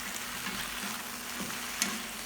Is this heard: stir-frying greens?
yes